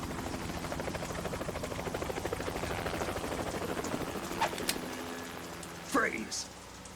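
Helicopter rotor from Metal Gear Solid 2's Tanker Incident, a steady, loud thrumming chop running beneath voices and game effects, with short sharp sounds breaking in near the end.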